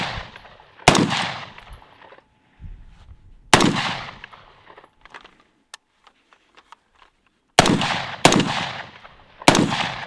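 An AR-15 style Bushmaster rifle firing rapid bursts into trash, sharp loud cracks in clusters separated by pauses, each shot trailing off in outdoor echo.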